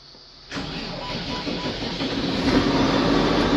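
A second-hand tractor's diesel engine cranks and catches abruptly, then settles into a loud, rough idle that builds slightly, close by.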